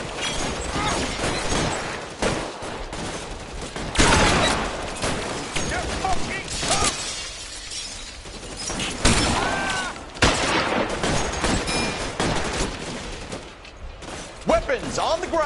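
Gunfire in the crime video game L.A. Noire, repeated sharp shots and bursts in a sustained firefight, loud and close, with shouting voices heard between volleys.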